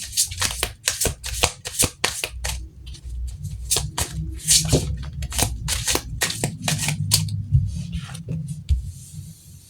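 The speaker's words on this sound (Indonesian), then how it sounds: "Kita langsung shuffle kartunya, kita lihat energinya." Tarot cards being shuffled close up, a rapid series of crisp riffling bursts and soft slaps that repeat through the whole stretch with short gaps between them.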